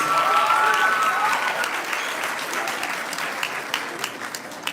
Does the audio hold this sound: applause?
yes